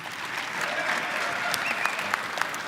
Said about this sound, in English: Ladies and gentlemen, a round of applause for Kevin Burke